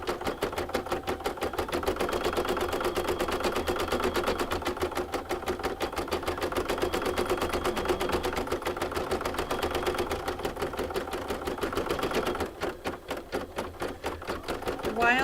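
An embroidery machine stitches a maple leaf applique coaster in the hoop, a rapid, steady mechanical chatter of needle strokes that continues throughout, briefly slowing and changing rhythm near the end.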